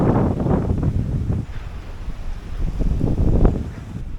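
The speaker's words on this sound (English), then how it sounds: "It is getting very breezy" Strong breeze gusting across an outdoor microphone, a steady low roar that swells and dips, heaviest in the first second and again near the end, with no talking.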